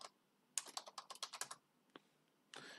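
Rapid bursts of typing on a computer keyboard while entering a URL path, a quick run of clattering keystrokes followed by a pause, a single tap, then another short flurry, close and fairly quiet.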